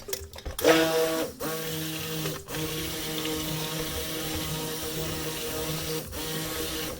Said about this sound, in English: I'm going to give this a quick stick blend.